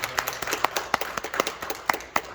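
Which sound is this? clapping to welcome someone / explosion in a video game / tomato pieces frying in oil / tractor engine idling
clapping to welcome someone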